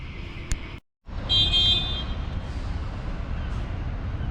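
A car horn sounds in a busy Bristol city-centre street, a short toot followed by a louder, sustained honk lasting about a second, set against steady traffic noise.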